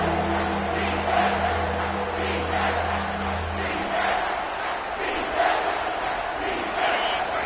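A football stadium crowd roars for the home defense on a big third down, a broad, sustained wall of cheering and yelling that swells and holds throughout.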